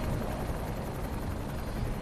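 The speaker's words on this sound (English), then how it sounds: "I wonder who's in that helicopter anyways." Helicopter in the Black Mesa video game, a steady dense rotor and engine drone that holds at an even level throughout, with no voices over it.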